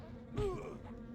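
A giant bee in the EverQuest game's Plane of Sky gives a brief, rising insect buzz that swells for about half a second over a low game-ambience hum, then fades.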